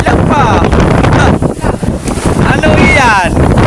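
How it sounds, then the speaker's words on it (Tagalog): Rushing sea waves churning around a small fishing boat out on the Pacific, loud and close with heavy wind buffeting the microphone, while people talk over the noise. "Nagraragasa yung alon."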